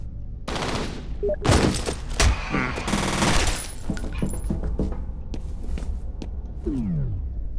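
Automatic gunfire in the shooter game F.E.A.R., sharp loud bursts of rapid shots in the first half, then scattered single shots, clinks and a falling whine in quieter stretches.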